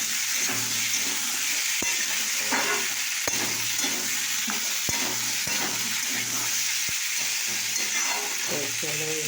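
Chopped onion and cut potatoes frying in a pan, a loud continuous sizzle and hiss with repeated sharp scraping stirs and utensil taps throughout, close up, with no voices.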